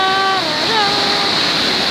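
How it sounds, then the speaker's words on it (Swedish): Steady broadband rush of a waterfall at Götafors, heard close and loud throughout, with faint tonal whistling sliding over the top of the continuous roar. "Här har vi vattenfallet."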